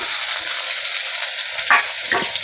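Potatoes sizzle steadily in hot oil in a pan, a close, continuous frying hiss with a couple of brief stirring scrapes near the end and no talking.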